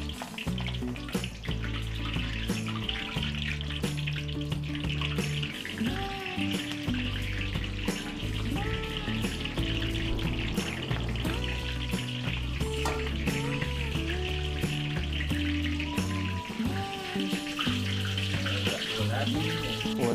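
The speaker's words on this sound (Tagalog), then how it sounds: "Prito na po natin yung ating pinrepare na embutido." Beef embutido, a Filipino meatloaf, frying in a pan, giving a loud, continuous sizzle with bubbling crackle throughout, close up, with background music underneath and no talking.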